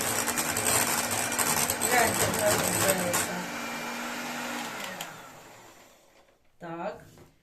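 An electric mixer whips 36% fat cream with 100 grams of ordinary 20% store-bought sour cream, a steady whirring motor drone that runs for about four seconds, then fades out before a brief voice at the end.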